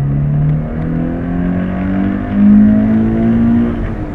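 A 2013 Scion FR-S fitted with an AEM intake revs on a dyno, its loud, close engine drone climbing steadily in pitch with a surge of intake roar partway through.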